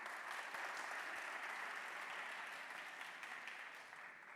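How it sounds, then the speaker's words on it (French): A crowd claps in a steady, dense wash of applause at a high-school quiz competition, holding strong and then tapering slightly at the end. "Applaudissements pour les deux établissements."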